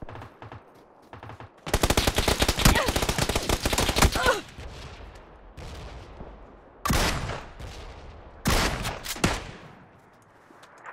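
Gunfire in PUBG on Xbox One comes in sharp bursts: a long rapid automatic volley, then a quiet gap and two shorter loud bursts, close and forceful, with no talk over them.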